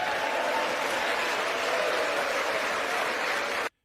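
Sustained applause from a political audience following remarks on the border, steady and dense throughout before cutting off abruptly near the end.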